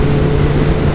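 A Kawasaki Ninja ZX11 (ZZR 1100) motorcycle engine drones loudly and steadily at speed, a dense, sustained roar mixed with wind noise and no break.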